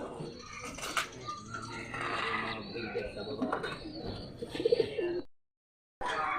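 Pigeons coo and call softly at feeding time as their breeders are fed, with people talking over the birds; the sound cuts to silence briefly near the end.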